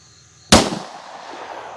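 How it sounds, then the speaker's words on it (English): A .327 Magnum Hornady Critical Defense round fires into ballistic gel with one sharp, loud gunshot crack, followed by a brief decaying echo and quiet room noise. "I'm gonna put one from each into the gel, starting with the 327 mag."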